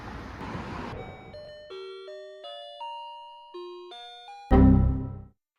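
Entrance chime at a Japanese convenience store in Osaka, a clear sequence of about a dozen electronic tones stepping up and down in a melody, loud and alone, after some brief street noise.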